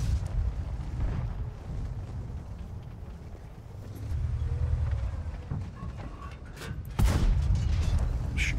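Heavy tank cannon shots in World of Tanks, deep booming blasts with rumbling engine noise between, two or three shots spaced over several seconds, loud and close.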